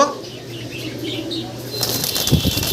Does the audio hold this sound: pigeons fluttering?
yes